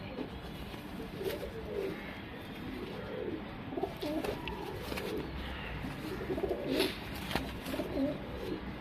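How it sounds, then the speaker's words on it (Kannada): A male Jacobin pigeon coos in soft, repeated rolling phrases at moderate distance, steady over a noisy ambient background with no talk. "ಇದು ಬಂದ್ಬಿಟ್ಟು ಜಾಕ್ಚೀನಿ ಗಂಡು"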